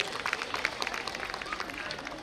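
Scattered clapping from a school annual day audience cheering class 5 pupils after their performance, faint and distant, a brief patter of many hands with voices faintly mixed in.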